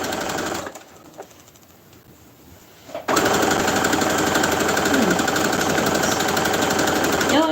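A sewing machine stitching, starting with a short run, pausing for a few quiet seconds with small clicks, then running continuously at a steady fast rattle, loud and close.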